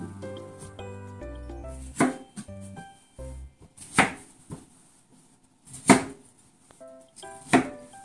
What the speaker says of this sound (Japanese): 小さく切っていきますよ。